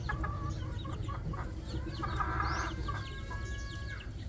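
A nesting hen clucking softly after laying an egg, her low murmuring calls close by over a steady background hum from other chickens on a farm.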